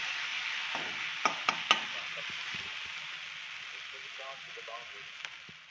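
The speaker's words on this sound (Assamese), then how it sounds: "এতিয়া মচন্দৰীখিনি দিয়াৰ পিছত আকৌ অকণমান ভাজি ল'ম।" Chopped taro stem with mint leaves frying in a pan makes a soft, even sizzle, with a few sharp utensil clicks near the start and light stirring scrapes later.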